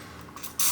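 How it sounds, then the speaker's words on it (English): A can of cooking spray lets out one brief, close hiss into a baking pan for coconut chi chi dango, preceded by a faint softer puff. "I'm also going to give it a nice little spray here."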